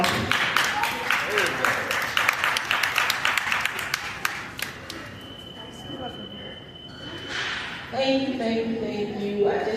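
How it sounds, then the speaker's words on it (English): A crowd claps in a burst of applause that fades after a few seconds at a senior talk, followed by a voice speaking over a quiet room. "Please give her a round of applause."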